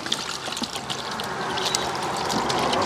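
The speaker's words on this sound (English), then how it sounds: "Rinse them off, you know." Water running and pouring while freshly cut vegetables are rinsed, a continuous close trickle and splash with small irregular spatters throughout.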